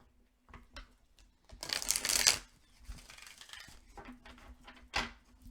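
Tarot cards shuffled by hand, three short bursts of riffling and flapping with a louder flurry in the middle, close and otherwise quiet.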